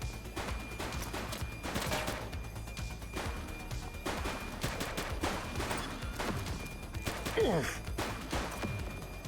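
Repeated gunfire erupts during a police shootout in The Precinct video game, with dense bursts and rapid volleys continuing loudly throughout amid crashes, while a voice speaks briefly.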